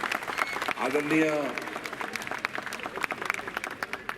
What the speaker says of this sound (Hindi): तो मैं चाहता हूं पहले और जोर से इनके लिए तालियां बजनी चाहिए।